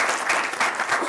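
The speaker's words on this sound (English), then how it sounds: "Also applause for them." Audience applause at an academic public health event, a steady wash of many hands clapping at moderate volume with no voices over it.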